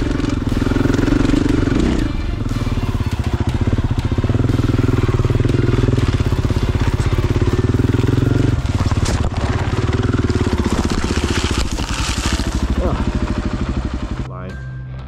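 A motorcycle engine revs and roars loudly at close range while riding at Indian Valley Reservoir, with engine pitch swelling and dropping and a clattering burst near the end.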